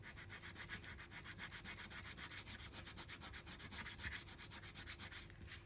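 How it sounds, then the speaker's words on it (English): A normal nail file brushes steadily back and forth over a coated scrapbooking piece to wear off its top layer. The rapid, even strokes make a continuous close-up rasping that runs without pause. "So a normal nail file, and I'm just brushing them so it gently removes that top layer."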